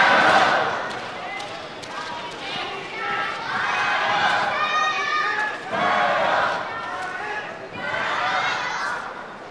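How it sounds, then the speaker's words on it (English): A crowd at a men's doubles table tennis match between China and the world swells and falls in waves of cheering and chatter, with voices talking over it. "Stall from Wang Liqin with the noise of the crowd, the enthusiasm shining through."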